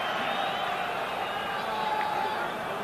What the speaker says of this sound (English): The crowd are enjoying this here.